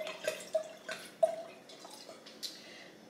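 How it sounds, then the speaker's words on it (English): Wine poured into a glass at home, a quiet close trickle with small glugging drips and light clinks, fairly soft against a calm room. "So I'm going to pour myself a glass of wine."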